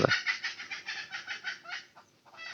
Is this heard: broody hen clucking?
yes